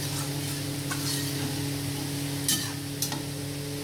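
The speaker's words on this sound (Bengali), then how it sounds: "এইভাবে এটাকে কষাতে হবে" Potatoes and cauliflower sautéing with spices in a pan make a soft, even sizzle under a steady low hum, broken by two brief scraping strokes of a utensil.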